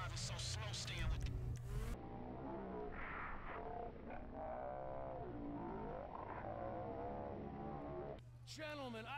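A car driven in the video game Grand Theft Auto V, its engine a steady, loud drone with revving swells throughout, under continuous talk and game voices.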